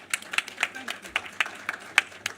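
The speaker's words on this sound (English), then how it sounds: "Give them a round of applause." A small audience at a productivity forum claps for a short burst, scattered individual claps rather than a full roar, fairly faint and distant.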